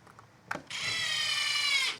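Small screws are driven into a deck board jig with a power drill: a brief knock, then one loud, steady whirring burst lasting over a second, close by with no talk.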